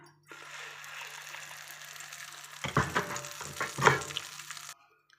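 Hot oil tempering hits peanut chutney with a sudden loud sizzle and bubbling burst partway through, after a faint steady frying hiss, then stops abruptly.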